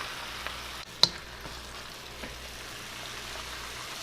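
Chicken sizzling in a pan for pancit canton, a steady soft frying hiss with faint crackles and one sharp clatter partway through, moderately quiet with no talk.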